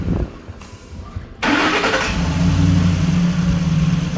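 A car engine with a faulty PCM is cranked after a brief quiet moment, catches abruptly and settles into a loud, rough idle close by, with no talking.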